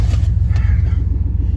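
The low, steady rumble of an old wood-hauling truck's engine idling close by, a continuous throbbing drone with no speech over it.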